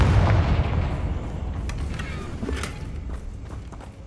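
The Confringo fire spell explodes in Hogwarts Legacy, a muffled boom up front followed by a rumbling, crackling decay with scattered small pops and thuds, fairly low in level.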